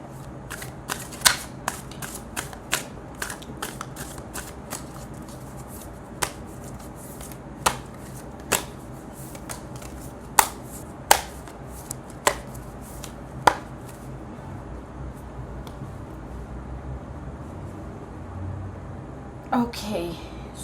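Tarot cards are riffled and shuffled in sharp, irregular bursts of crisp snaps spread over time, with quiet pauses between, close to the listener.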